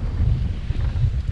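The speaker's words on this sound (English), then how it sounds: "We got southerly winds about 15 knots" A southerly wind of about 15 knots buffets the microphone aboard a sailboat, a steady low rumbling roar with gusty swells.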